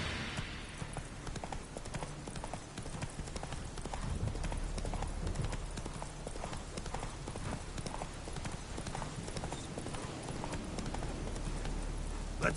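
Hooves of Roach, a horse in The Witcher 3, clip-clopping in a steady, continuous rhythm across the whole stretch, fairly close, with a brief snort near the start and ambient game sounds beneath.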